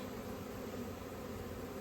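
Steady, continuous buzzing of many honey bees in a swarm, soft and even throughout with no voices.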